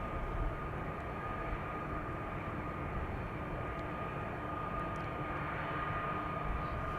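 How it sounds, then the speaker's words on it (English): Delta Boeing 787-10 Dreamliner on the runway at Amsterdam Schiphol, a steady, broad jet engine rumble held evenly throughout at moderate distance. "Delta Airlines Flight 91 to Orlando is also traversing the center runway"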